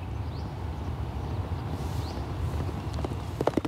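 Racehorses moving on a training track in Dubai, their hooves giving a steady clip-clop over a dense, constant wash of outdoor noise, with a few sharper hoof strikes near the end.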